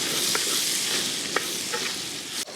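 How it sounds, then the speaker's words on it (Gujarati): Okra fries in oil with a pinch of asafoetida for a spiced okra dish, a steady close sizzle broken by a few faint utensil taps and a final scrape, no one speaking. "ત્યારબાદ થોડી હિંગ નાખીશું આપણે, અને તરત જ આપણો ભીંડો છે એ નાખી દઈશું."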